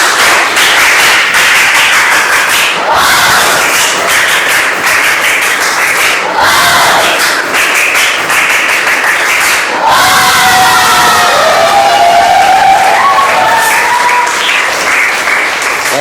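An audience claps a fast rhythmic spirit clap together and shouts and cheers along with it. It keeps going loud and dense the whole time, with a collective vocal cry rising near the end.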